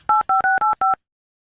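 Telephone keypad tones beep five times in quick succession, each a clean steady dual-pitch tone with short gaps, loud and close, followed by silence.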